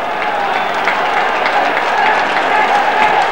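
Lecce football supporters at the Via del Mare stadium during a 1987/88 match against Taranto, a steady dense crowd roar with scattered clapping, loud and continuous throughout.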